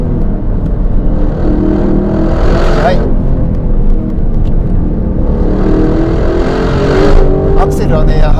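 A 2025 Aston Martin Vantage engine roars close and loud on a half-wet winding road, its revs climbing and shifting in steady pulls while someone speaks over it.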